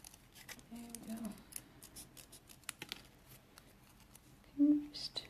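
Scissors fussy-cut a card heart shape, trimming a corner in a handful of quiet, crisp snips spread over a few seconds, with soft handling noises and faint talk in the background.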